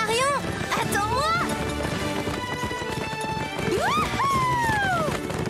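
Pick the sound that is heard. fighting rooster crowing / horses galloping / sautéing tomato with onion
horses galloping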